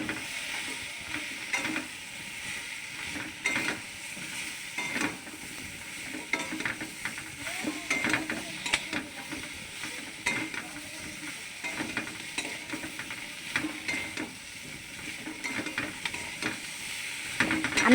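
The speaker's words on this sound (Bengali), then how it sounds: "এবার এগুলো একটু নেড়ে নেবো, বেশি নাড়লে হবে না" Food being stirred in a frying pan, steady sizzle and hiss with irregular scraping stirs throughout, no voices.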